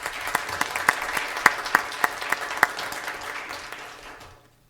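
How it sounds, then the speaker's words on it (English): Scattered applause from a school board meeting audience at Cactus Shadows High School, a handful of sharp individual claps standing out over a softer wash of clapping that tapers off and fades to silence near the end. "how about a round of applause for Antonio?"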